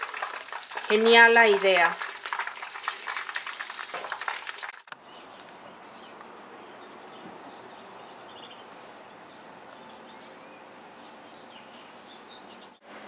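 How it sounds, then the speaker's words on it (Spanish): Stuffed squash blossoms fry in oil with a steady, even sizzle and crackle that runs close and continuous for most of the stretch. A brief exclamation and a sharper burst of stirring come before it. "Una vez ha terminado de freír, se escurre el exceso de aceite"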